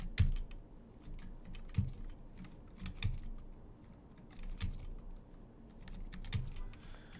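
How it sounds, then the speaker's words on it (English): Quiet, irregular clicking of keys on a computer keyboard, close by, with scattered taps and brief pauses between bursts. "Might actually just be better off typing this in."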